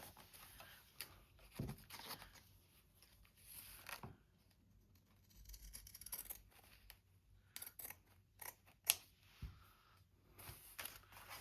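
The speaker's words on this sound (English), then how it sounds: "Where are my pinking shears?" Paper being cut with pinking shears, heard as a series of crisp snips and crunches at an uneven pace, close by and fairly quiet, with small handling rustles between cuts.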